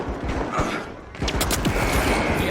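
Rapid video-game gunfire, with shotgun blasts mixed into a dense string of sharp cracks and booms, loud and close throughout.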